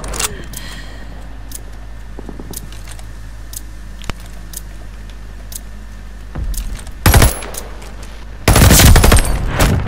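Automatic gunfire in an online first-person shooter game, short sharp bursts scattered through the stretch, then a dense, loud sustained volley near the end over a steady low hum.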